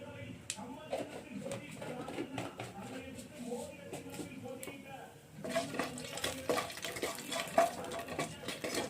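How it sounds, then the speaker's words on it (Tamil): Mustard seeds spluttering in hot oil in a pan for a potato and lady's finger stir-fry, light crackling pops and sizzle that thicken midway, with a voice talking over them. "கொஞ்சமாக கடுகு சேர்த்துக்கோங்க. கடுகு பொரியட்டும்."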